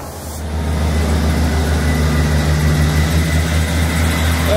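A train pulls away on the Settle–Carlisle line, heading for Carlisle, with a loud, steady low engine rumble that holds continuously throughout and no voices.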